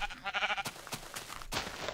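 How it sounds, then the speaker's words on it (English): A sheep in the Minecraft video game gives a short, wavering bleat up close, followed by a few sharp clicks of game sounds. "Sheep!"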